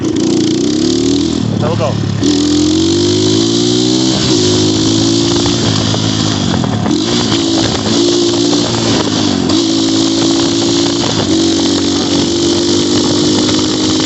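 An Xmotos 250cc motorcycle revs and accelerates on a street, its engine loud and close with repeated rising pitch sweeps as gears shift, while a rider speaks briefly over it.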